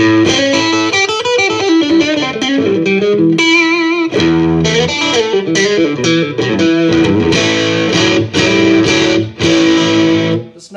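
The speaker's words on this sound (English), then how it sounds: "I can lower the gain and get a little less of a distortion effect sound" Electric guitar played through a Fender Frontman practice amp set to a lower gain for a milder overdrive, loud and continuous, with strummed chords and short melodic runs and no talking.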